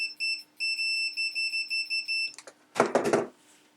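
A Uni-T UT196 multimeter gives a run of short, evenly spaced continuity beeps, then a brief burst of rustling handling noise.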